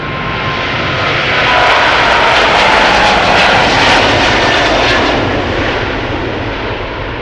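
Heavy jet airliner at Schiphol Airport during the heavies rush, its engines a loud, close roar that swells and peaks midway and then eases slightly, with no voices.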